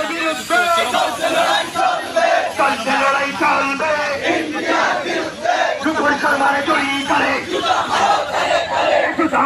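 Loud crowd chanting at an Islamic protest procession in Juri, Bangladesh: many voices shout slogans in a steady, rhythmic call-and-response that continues dense and unbroken throughout.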